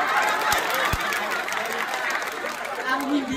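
Applause and cheering from a pageant crowd at a gay beauty contest during a fiesta, a dense continuous roar of clapping mixed with chatter and voices throughout.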